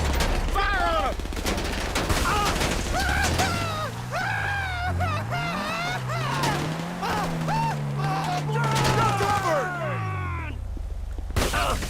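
A shootout in GTA 5 Online brings repeated bursts of rapid gunfire mixed with a rising and falling engine whine, and a continuous busy game mix runs underneath.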